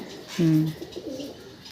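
A Pakistani teddy pigeon in a loft gives one clear, close, mellow coo, followed by softer low murmurs against faint room noise.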